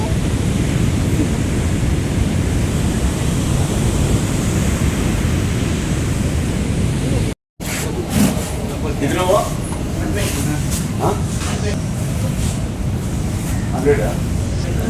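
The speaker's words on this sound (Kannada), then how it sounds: "ಭಯಂಕರ ಅಲೆಗಳಿದೆ." Big ocean waves at Tannirbhavi beach roar in a loud, continuous wash mixed with gusty wind buffeting the microphone, and a voice talks over the surf in the second half.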